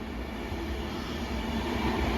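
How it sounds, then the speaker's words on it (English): Avanti West Coast Pendolino diverted from Liverpool Lime Street to London Euston, passing through Stoke-on-Trent station; a short, steady rail rumble with a faint whine, moderately loud and unbroken, no talk. "passing through now is going to be the Avanti West Coast on divert from Liverpool Line Street to"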